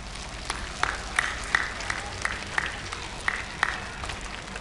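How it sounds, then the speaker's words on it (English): An audience at a school assembly claps for each other, a scattered, fairly faint ripple of applause with a few distinct sharp claps at irregular intervals. "Come clap for each other."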